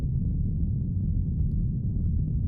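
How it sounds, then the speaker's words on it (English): Pitched-down, filtered synth noise forms a dark, steady low rumble that stays at an even level throughout, with no other sounds over it. "this noise that I've pitched down and filtered."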